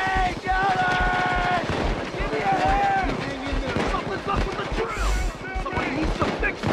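Dense, rapid gunfire in the heist game Payday 2 crackles continuously beneath excited voices talking over it.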